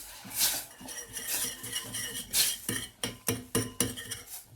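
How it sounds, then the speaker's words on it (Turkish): Repeated metal clinks and scraping of a whisk against a pot as hot water is whisked into flour for Turkish flour soup, starting busy and steady, then turning into sharper separate beats toward the end, close and clear with no speech. "Hemen çırpıyorum."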